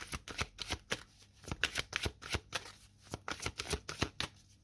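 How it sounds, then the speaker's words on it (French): Tarot cards are shuffled and drawn by hand for a weekend reading, a quick close series of crisp riffling flutters and slaps repeating in uneven bursts, with no talking. "Allez, on prend une carte complémentaire."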